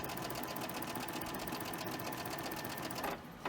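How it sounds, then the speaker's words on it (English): A sewing machine stitches quilt fabric in a steady, fast mechanical whir with a rapid rhythmic needle beat, loud and close, stopping abruptly near the end. "And then I'll just put this in my sewing machine and start it off."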